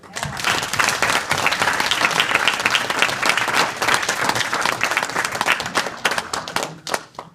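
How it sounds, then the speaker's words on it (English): Sustained audience applause after a final presentation, dense and loud clapping from a room full of people, continuing steadily before tapering off near the end. "All right, another round of applause."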